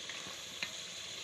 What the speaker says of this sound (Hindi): इसमें अब देखें बस मटर ऐड करेंगे